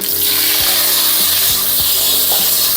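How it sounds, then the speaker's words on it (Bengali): Mustard seeds and tomato frying in mustard oil in a kadai give a steady, loud, close sizzle, with a few soft stirring knocks at uneven intervals and no talking. "চাটনির জন্য আমি প্রথমে কড়াইয়ে দিয়ে দিচ্ছি সর্ষের তেল, ফোড়নে দিচ্ছি সর্ষেটা একটু ভাজা ভাজা হয়ে গেলে আমি দিয়ে দেব"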